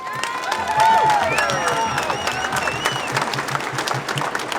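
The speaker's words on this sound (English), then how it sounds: "Big round of applause for Jo." Sustained applause from a crowd at an outdoor protest rally, steady clapping with a few cheers rising above it, loud and close throughout.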